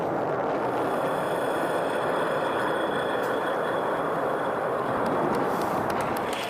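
A SpaceX rocket hovers with its main engine firing, heard as a continuous broad roar that stays even and unbroken from start to finish with no talking.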